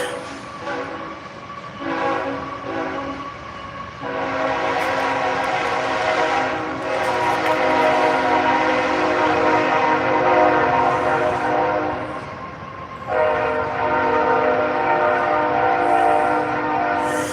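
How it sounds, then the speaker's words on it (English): A train passes close by, its horn sounding in long sustained blasts over the steady rumble and clatter of rail cars, loud and continuous throughout. "Sorry about the train to start."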